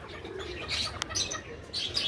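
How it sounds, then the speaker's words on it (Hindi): Pigeons feeding on scattered grain coo and chirp softly at close range, with brief wing flutters among the calls. "तो कुछ कबूतर अभी यहाँ दाना खाने के लिए"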